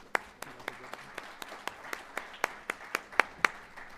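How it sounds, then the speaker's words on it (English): Audience applause for a group of resident lecture speakers: a dozen or so sharp, evenly spaced claps ring out in a steady rhythm at moderate level, fairly close, with no talking over them. "We'll give them one more round of applause."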